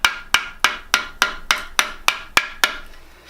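Hammer blows strike into the CA-glued seam of a subwoofer being cleaned for a recone, ten sharp, evenly spaced metallic knocks with ringing decay, close and loud with no talk.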